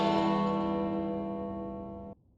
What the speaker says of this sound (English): And the Clock Tower sounds like this.